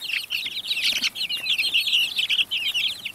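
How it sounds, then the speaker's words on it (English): Chickens outdoors eating grass, giving steady, busy clucks and chirps close by, loud and continuous over light background noise. "Got the little birdies outside eating grass."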